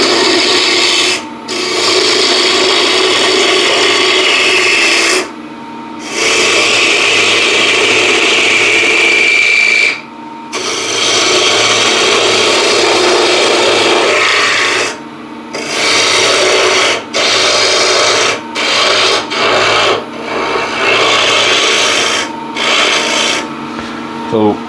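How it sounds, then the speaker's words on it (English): Roughing out crossgrain wood on a lathe with a 1/2 inch spindle gouge: a loud, continuous rasping cut broken by a few short pauses, close up with no talk. "I'll be using 1/2 inch spindle gouge for this."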